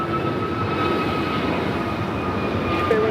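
American Airlines A321neo jet departing LAX, a steady broad engine roar with a faint high whine, heard continuously from a distance without speech.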